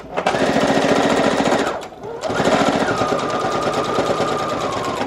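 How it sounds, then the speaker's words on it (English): A sewing machine runs a straight stitch steadily at a rapid, rattling rhythm, pauses briefly, then resumes and continues stitching loudly up close. "run this through my sewing machine with a straight stitch just all the way down"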